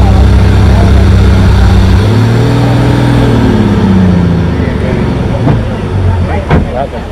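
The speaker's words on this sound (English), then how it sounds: "It turned out that the engine had gone on our long tail boat." Long-tail boat engine on a Thai fishing trip failing, a loud droning motor whose pitch sags and shifts as it falters, ending in uneven bursts with voices talking over it.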